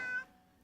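A short cat meow from the Little Witch in the Woods video game, a single bright cry that cuts off quickly, fairly faint and alone.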